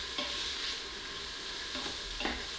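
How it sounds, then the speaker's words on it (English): Onion and chopped red pepper sautéing in an Instant Pot for vegan chili: a steady, even sizzle throughout, with a few soft stirring scrapes, and no one speaking. "we're just gonna saute the onion and chopped red pepper until the onion is translucent"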